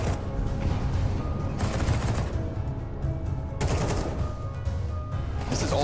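Rapid MP9 submachine gun fire in a professional Counter-Strike 2 match, heard as several short, loud bursts of fast shots spaced a couple of seconds apart, with no voices over them.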